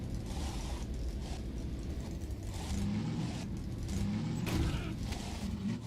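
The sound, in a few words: car engine in the video game Half-Life 2: Downfall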